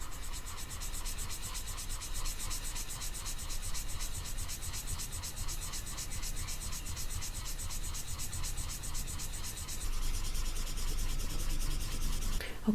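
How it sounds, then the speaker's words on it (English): A Faber-Castell 7B graphite pencil being smudged across paper produces continuous close, soft rubbing and scratching strokes in a quick repetitive rhythm, which grow a little louder near the end. "how long it actually takes me to smudge this out completely"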